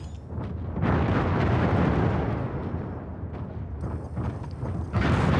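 Explosion of a destroyed target in MechWarrior 5 Mercenaries, a loud, sustained rumbling blast with crackling debris that rolls on for several seconds and swells again at the end.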